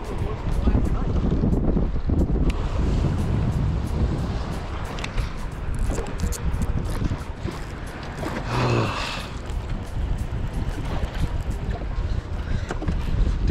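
Wind buffets a boat out bass fishing, a loud, gusty roar and rumble of wind against the microphone that continues throughout, with water and hull noise mixed underneath.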